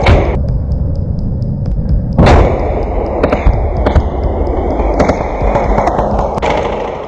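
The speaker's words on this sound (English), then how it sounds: "the thunder of gunfire and explosions" Sharp, loud bangs of gunfire and explosions during a trench assault crack out repeatedly over a constant rumbling background, with one especially heavy blast near the start.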